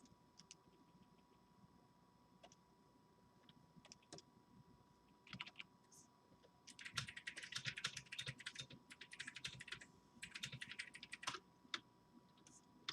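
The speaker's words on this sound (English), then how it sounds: "So if you're hearing it just then, that could be Alex's key clacking, or me hitting my hotkeys" Computer keyboard keys clack in quick, irregular bursts of typing, with scattered single hotkey presses before and between, faint and close-miked with no talk over it.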